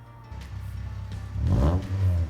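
A Honda DC5 Type R with a custom, bigger-than-stock exhaust revs close by, the engine note climbing into a loud, rasping surge before easing off slightly.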